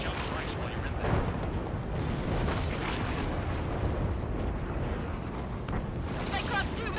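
Rumbling missile explosions in the jet combat game Ace Combat 7, a steady wash of booms and blasts under radio chatter and game voices, with a few sharper bursts near the end.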